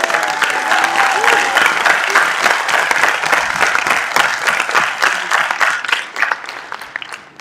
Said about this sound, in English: if I could ask for a short round of applause for them